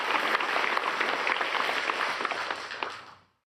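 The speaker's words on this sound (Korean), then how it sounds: "우리 하나님께 박수로 영광 돌리겠습니다" A church congregation applauds during a Korean sermon, a steady broad patter of many hands clapping that carries on for about three seconds before cutting off into silence.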